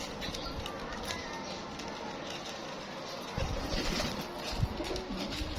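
A flock of pigeons coos softly after landing to peck at grit, a steady murmur of low calls with light rustling and a brief louder flutter near the end.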